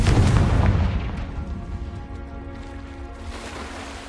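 A Confringo blasting spell from a Harry Potter video game detonates with a loud, deep boom at the start, then a long rumbling decay that slowly fades across several seconds.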